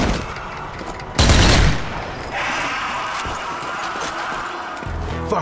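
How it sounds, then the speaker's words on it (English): Mounted turret gun blasting in Zombie Army 4: Dead War, a loud burst of heavy fire for about half a second, followed by sustained rumbling combat noise and scattered impacts. "A turret. Now this will cause some chaos."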